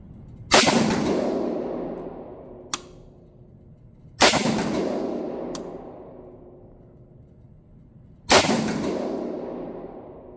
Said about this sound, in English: All right, let's shoot another group with Frontier.